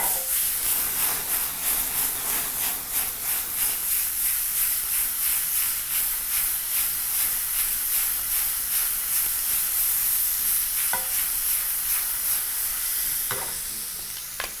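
Chilli beef sizzles and hisses steadily in a hot pan as the pieces are tossed, with rhythmic stirring scrapes and bursts of steam over a constant frying roar, no talking.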